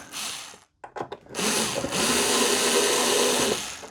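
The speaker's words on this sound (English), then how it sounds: "The 2 Phillips screws are going to go right here. Get you a little screwdriver." Small Phillips screwdriver driving screws into the angled plastic feet of a TCL 65-inch Roku TV, heard as a few close clicks followed by a sustained, loud grinding whir that runs for a couple of seconds before stopping.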